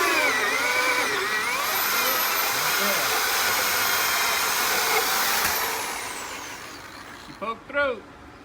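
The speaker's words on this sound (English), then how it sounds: "we're going to drill ourselves a 4-inch hole here in about a second" A power drill bores a 4-inch hole through an RV wall, a loud, steady whirring grind for about six seconds before fading, followed by a few brief voices.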